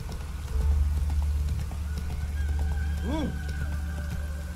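Hooves of Geralt's horse in The Witcher 3: Wild Hunt sound as a soft, muffled clip-clop over a low game rumble. A brief whinny-like tone rises near the end, and someone talks in German throughout.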